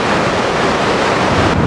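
A Swiss Alpine waterfall near the Jungfrau, with about 20,000 litres per second pouring down, makes a loud, steady, broadband roar that fills the whole clip with no voices.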